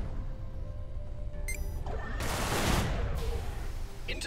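Weapons fire in the Everspace space combat game as a rapid crackling burst that swells over a steady engine hum, with short bright electronic tones cutting in and out.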